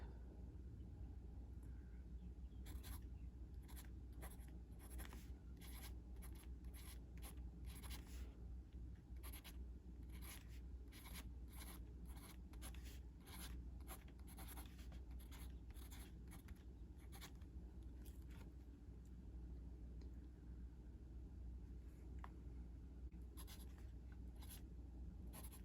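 A Schneider Ceod Classic fountain pen writes on Rhodia paper, giving a close, steady run of soft scratchy nib strokes in quick bursts over a low background hum, with no talking.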